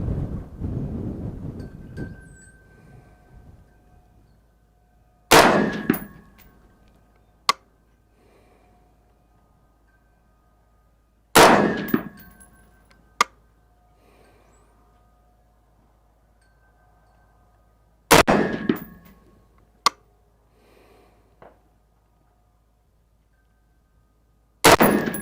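WK180c Gen 2 rifle fires five rounds of Hornady Superformance ammunition, each sharp, loud shot spaced several seconds apart, trailed by brief echoes and small clinks, over faint outdoor background noise.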